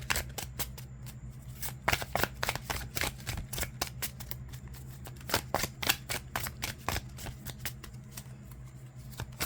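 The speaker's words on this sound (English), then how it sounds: "I was just getting some kind of information while I'm shuffling" Tarot cards are shuffled in quick crisp riffles and flicks, close up and fairly quiet, with a few pauses between bursts.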